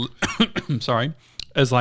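A single short cough cuts in between stretches of close conversational speech, with talking resuming right after.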